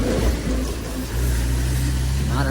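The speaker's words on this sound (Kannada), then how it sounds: "ಟ್ರ್ಯಾಕ್ಟರ್ ನೋಡಿ ಗೈಸ್ ಹೆಂಗಿದೆ." A tractor engine running in Munnar, a steady low rumble close by with a continuous hum and slight rise near the end; no talking.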